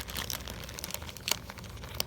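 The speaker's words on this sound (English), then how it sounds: "And inside the bubble wrap, we've got a plastic bag." Bubble wrap and a plastic bag being unwrapped from a taped package, soft close crinkling and rustling with a couple of sharper crackles, no talking.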